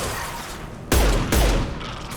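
Two heavy gunshot blasts land close together amid continuous combat noise in the Mass Effect 2 Firewalker mission, each a sharp loud crack followed by a brief booming tail.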